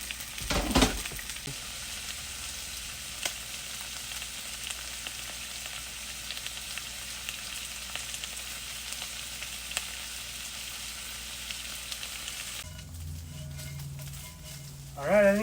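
Potatoes and onions fry in a pan with a steady, close crackling sizzle that runs throughout, with a brief clatter near the start and some shuffling and a faint voice toward the end.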